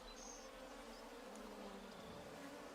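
Bees buzz in a steady, low drone during a tabletop Pathfinder role-playing session, with no voices over it.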